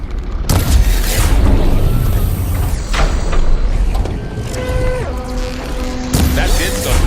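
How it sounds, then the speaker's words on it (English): Shots strike gears in a Horizon Forbidden West machine puzzle, loud mechanical clanks and booms followed by ratcheting, grinding metal as the gears lock, with tonal game effects layered over the noise. "Maybe if I shoot the gears, I can lock them into place."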